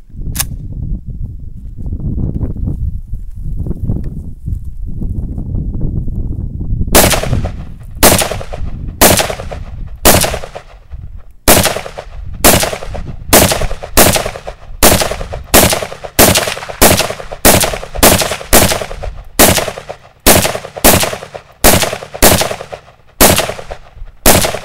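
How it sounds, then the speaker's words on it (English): A WASR-10 AK-47 variant rifle fired at a tree outdoors, loud close single shots in a steady rhythm of about twenty sharp reports, after a stretch of low rumbling handling noise. "This is an AK-47. It's actually a variant called a Wasser 10, W-A-S-R. And we're just gonna be shooting the tree."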